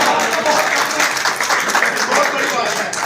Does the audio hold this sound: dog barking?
no